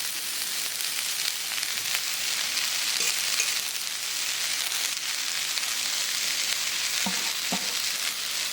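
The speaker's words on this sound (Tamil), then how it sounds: "வெங்காயத்தை வதக்கி வச்சு இப்போ நம்ம கீரை இதில் ஆட் பண்ண வேண்டியதான்" Ponnanganni greens frying in a pan with sautéed onions give a steady, close hiss and sizzle, with a few light stirring clinks near the end.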